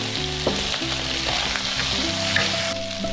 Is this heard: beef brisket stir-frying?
yes